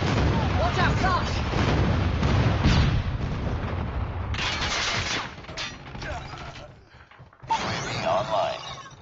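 A flashbang grenade going off in a first-person shooter: dense, loud blast noise with a long ringing wash, a sharp drop, then another burst, while players talk.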